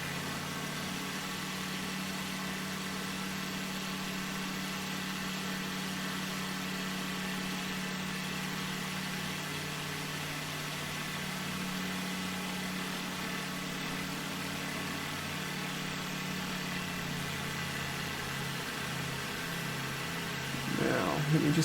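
Engine of a racing motorcycle held flat out in sixth gear on a long straight in an Isle of Wight TT road-racing video game, a steady, loud drone running unbroken for the whole stretch.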